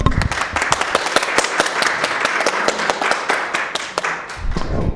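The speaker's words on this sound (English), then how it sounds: "Let's have a round of applause for everyone who's been here." Audience applause at a recruitment meeting livestream: a small room of people clapping with dense, irregular hand claps for about five seconds, steady and moderately loud, fading slightly near the end.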